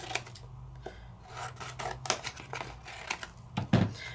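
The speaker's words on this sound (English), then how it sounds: "Now with this one, I'm gonna cut it in half" Scissors cutting through an embossed craft card, a quiet close series of short rasping snips and rubs, irregular and light, with no talking.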